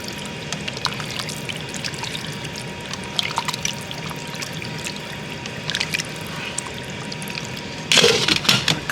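Water pours steadily into a cooking pot with a continuous trickling splash, near and fairly loud, ending in a brief burst of heavier splashing.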